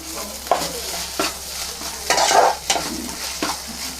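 Fish roe stir-fried in a pan on high flame, a crackling sizzle broken by repeated scraping stir strokes at irregular intervals, close and alone.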